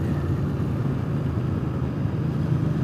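A Speedmaster motorcycle fitted with new aftermarket exhaust pipes idles in a steady, smooth, low rumble, close and continuous with no revving or talk.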